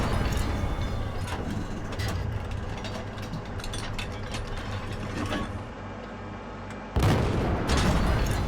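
An artillery piece fires and its shell lands in the World War II game Forgotten Hope 2, with rumbling mechanical clatter building to a sharp loud impact near the end.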